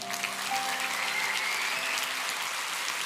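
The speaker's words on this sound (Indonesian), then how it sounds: "kasih tepuk tangan tuh Tuhan" Steady applause from an audience, a dense wash of clapping that holds level throughout.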